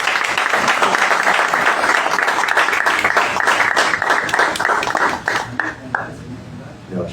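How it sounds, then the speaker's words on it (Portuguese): Audience applause at a Brazilian chat-room event with a special guest, Mestre Bidu: dense, steady clapping from a crowd for about five seconds, then thinning into scattered claps as it fades. "Uma salva de palmas."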